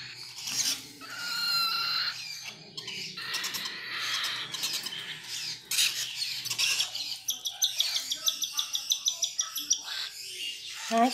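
Young birds chirping as they are weaned, with hand-rearing food for chicks nearby: steady high twittering calls, then a quick run of short repeated peeps toward the end, close and fairly loud with no talk.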